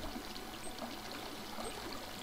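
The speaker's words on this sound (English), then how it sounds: "Where is this water source heading?" Flowing water in Minecraft makes a soft, steady trickling and bubbling, quiet and continuous with no talk over it.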